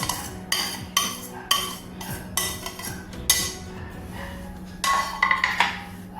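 A spoon clinks and scrapes against a bowl while mashed sweet potato is mixed with cheese, giving a series of close, sharp metallic taps and soft stirring scrapes in an irregular rhythm.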